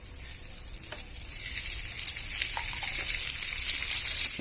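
Tomatoes sautéing in a little oil for a pepper-tomato curry: a loud, continuous close sizzle with bright crackle and occasional stirring taps, steady throughout with no talking.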